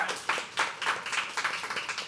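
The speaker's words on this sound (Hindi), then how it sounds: "अरे तालियां होनी चाहिए यार छवि के लिए" A small poetry open mic audience claps briefly for a guest, a short burst of scattered, moderately close applause.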